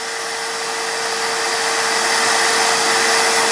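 A Hoover vacuum cleaner pulling air through a clogged car diesel particulate filter gives a loud, steady, strained whine with a fixed high tone that holds unbroken for a few seconds.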